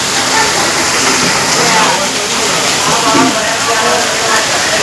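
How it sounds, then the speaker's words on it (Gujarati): Heavy monsoon rain pours down in Patan with a dense, loud, continuous wash of water, like rain drumming on surfaces beside an overflowing drain, with a voice speaking over it. "એટલો વરસાદ પડે જો."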